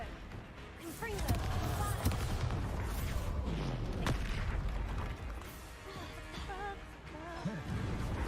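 Confringo fire spell blasts in Hogwarts Legacy, sharp bangs and crackling impacts scattered through busy combat sound and music.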